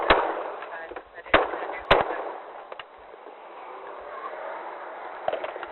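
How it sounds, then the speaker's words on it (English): Several sharp gunshots ring out in a city street at Beverly and Brea during a police shooting. The first three come in quick succession, a fainter pop follows later, and dull background noise continues between the shots. "Shots fired."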